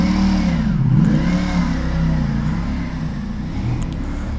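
A superbike accelerates away, its engine note rising and then steadily fading as it pulls into the distance, with no voices over the sound.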